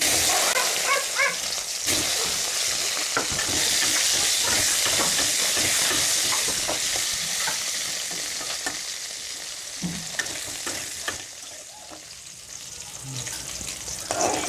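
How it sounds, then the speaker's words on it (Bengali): Okra pieces fry in hot oil left in a kadai wok after frying fish, making a constant loud hissing sizzle with stirring clatter mixed in that eases slightly toward the end. "ঢ্যাঁড়সগুলো ভেজে নিচ্ছি।"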